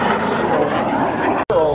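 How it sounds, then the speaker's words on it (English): Broadband jet roar from a Discovery Air F-86 Sabre with a Canadian Orenda 14 engine, flying at a Gatineau airshow, a steady loud rush of noise with a brief dropout near the end. "the Discovery Air Hawk 1 F-86 Sabre, powered by the Canadian Orenga 14 engine"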